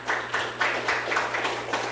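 An audience at a meeting with small business owners applauds, a modest, fairly faint run of claps with regular swells, heard without talk.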